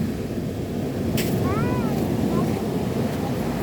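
Big waves rumble in a broad, constant wash of surf and wind noise, with a short voice exclaiming over it partway through.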